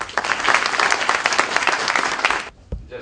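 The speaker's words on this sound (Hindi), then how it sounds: "मैं अरविंद साहब को बुला रहा हूं कि तालियों से अरविंद का स्वागत हो" An audience bursts into dense, sustained applause to welcome a guest named Arvind at an evening poetry gathering, the clapping loud and steady before cutting off abruptly near the end.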